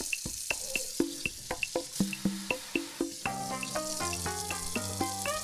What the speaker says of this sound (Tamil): நான் கழுவியே காட்டுறேன்.